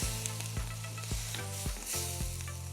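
Egg yolk and potatoes sizzle and simmer in a pan, a steady close frying hiss broken by a few soft clinks of a utensil, with no voices.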